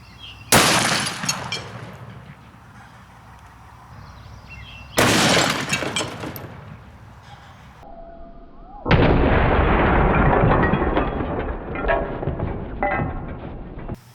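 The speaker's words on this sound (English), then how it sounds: "500 Smith & Wesson Magnum 350 grain hollow point." A 500 Smith & Wesson Magnum loaded with 350 grain hollow points is fired into ballistics gel: three loud, sharp blasts a few seconds apart, each followed by a long reverberating tail, with no talking.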